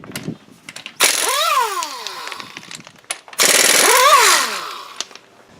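Air-powered impact wrench removing car wheel nuts, fed by a Makita MAC2400 compressor: two loud, close bursts of hammering rattle, each with a rising then falling whine, separated by brief quiet and small clanks.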